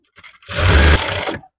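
A sewing machine stitching a cotton summer frock, running in one short continuous whirring burst of about a second, close and loud, with no talking.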